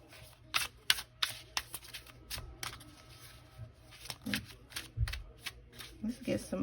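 Tarot cards being shuffled in quick riffling bursts, close and crisp, with a voice speaking quietly in between.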